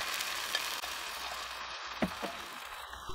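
Beaten egg mixture with salt and pepper fries in an oil-coated pan over medium-low heat, giving a steady, close, moderate sizzle with a few soft crackles and light stirring touches and no voices.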